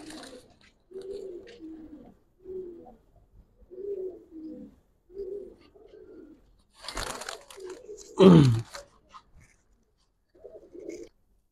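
Giribaz pigeons, old-line Palla breed, cooing in a series of soft low coos, near and repeated, with a brief louder flutter or rustle late on and people talking now and then.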